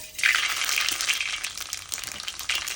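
Mustard seeds hit hot oil for tempering and sizzle loudly up close, a dense crackling hiss that swells at first and then settles into a steady fry.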